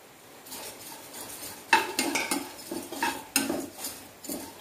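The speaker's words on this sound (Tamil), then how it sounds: "இப்போ நம்ம இதை இதில் சேர்த்துடலாம். சேர்த்து நல்லா வறுத்து எடுத்துக்கோங்க." Dry poha (aval) roasting and being stirred in a hot kadai, heard as a series of scraping, rattling strokes of a spoon against the pan with faint crackle between, moderately close and without talk.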